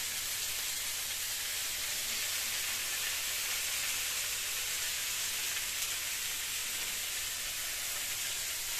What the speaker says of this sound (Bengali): মশলার জলটা দিয়ে দেবে এখানে।